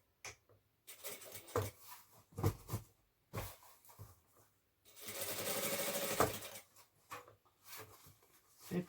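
A sewing machine stitches a seam while making a lining, with short clattering runs broken by pauses and then one longer steady run of stitching. The sound is close and fairly quiet.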